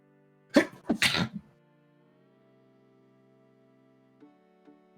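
A person sneezes loudly and close by, a sharp double burst in quick succession, followed by near silence with only a faint background hum.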